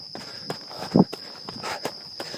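Steady footsteps of a runner climbing a mountain trail in the dark in Japan, about two to three steps a second, close and fairly soft, with crickets faintly behind.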